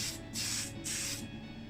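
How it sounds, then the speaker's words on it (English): Metallic black spray paint hissing from an aerosol can in three short bursts, close and fairly loud, with brief gaps between sprays. "this was another gift from Tony, this metallic black in the can"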